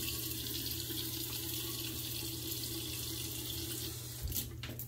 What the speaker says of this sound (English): I'm gonna put some more water on my face real quick.